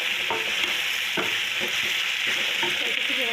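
Squash and onion frying in a pan at home, with a steady sizzle broken by the scrape of stirring throughout.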